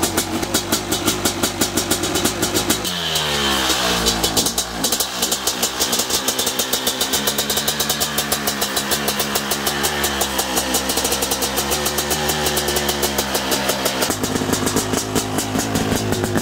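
A 500cc dirt bike with a billet engine runs loud and close throughout, idling rough then revving up and settling, with a steady mechanical chatter and no voices.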